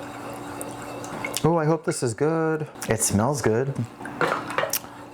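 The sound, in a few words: stirring pumpkin spice creamer in a container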